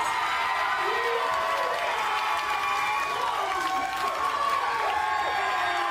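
A large wrestling crowd roars and cheers after a splash finish wins the match, a sustained loud wash of voices and clapping with scattered whoops and shouts rising throughout.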